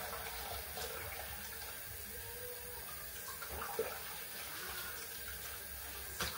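Cold water runs steadily from a tap into a sink in a home in the UK, a continuous soft hiss with occasional splashes, fairly quiet and with no talking.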